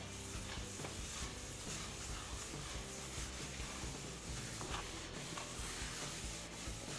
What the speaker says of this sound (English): get a nice amount on there, and then you just start rubbing in a circle